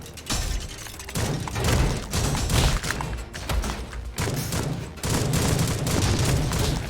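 Rifle gunfire in the video game MADNESS: Project Nexus arena mode: dense, continuous rapid shots and thuds layered over a loud game soundscape, with no pause throughout.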